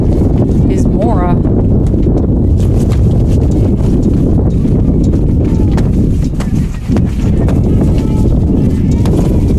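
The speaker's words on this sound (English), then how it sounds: "And the wind picking up once again." Wind blows hard across an outdoor softball field during a college game between Georgetown and Villanova, a loud, constant rumbling gust buffeting the microphone throughout, with a brief faint lull near the end.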